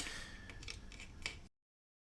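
Packaging of a Vortex CORE 40% mechanical keyboard being torn open by hand, giving a quick series of close, crisp rips and crinkles over about a second and a half, then silence.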